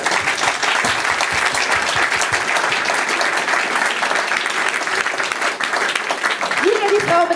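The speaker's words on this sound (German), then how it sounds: "So, Applaus für Julia" Audience applause at a German stage show, a dense, steady clapping from a crowd lasting throughout, loud and close, with a brief voice rising near the end.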